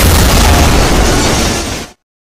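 A bomb blast from an Indian film hits as one loud, close explosion, a dense roaring burst that fades over about two seconds, then cuts to silence.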